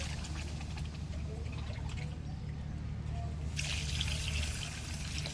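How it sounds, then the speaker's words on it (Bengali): Water pours into a pot of country chicken, a steady trickling stream that swells into a louder, fuller splash for the final seconds, with no talk over it. "পানি দিয়ে দিলাম।"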